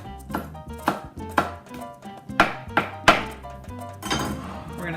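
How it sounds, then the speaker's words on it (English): A kitchen knife chops through a rolled stack of fresh mint leaves for mango salsa, landing in a steady run of crisp, close taps on the cutting board. "I've just kind of put a stack of mint together and rolled it all up so I can chop it up nice and fine"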